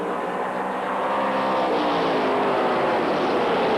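A pack of 1994 late model race cars roars around Five Flags Speedway, a dense sustained engine drone that swells slightly as the field passes, loud and steady without commentary.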